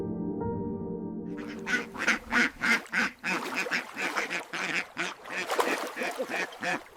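A duck quacks in a series of short, rhythmic calls, loud and close, following a brief musical tone at the start.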